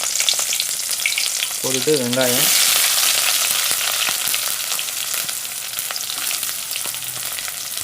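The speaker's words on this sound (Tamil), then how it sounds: "எண்ணெய் நல்லா சூடாகிடுச்சு. இப்போ அந்த கருவேப்பிலை, மல்லி இலை, அந்த இது போட்டுருணும்" Curry leaves and coriander leaves dropped into hot oil in a pan for chicken gravy burst into a loud, close crackling sizzle that stays strong and steady, with a short voiced sound briefly over it.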